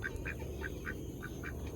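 Ducks quack in a quick series of about seven short, faint calls over a low background hum.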